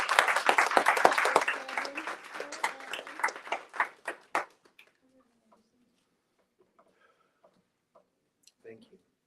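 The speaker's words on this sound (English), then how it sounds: "give a warm round of applause for Evan Outry Long." Audience applause for a speaker at a speaker-series event, dense clapping that thins into scattered claps and stops after about four seconds, followed by near silence with faint stray sounds.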